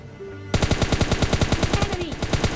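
An M4 rifle fires in a fast automatic burst in a battle royale video game, about twenty sharp, evenly spaced cracks starting abruptly after a brief quiet moment and continuing to the end.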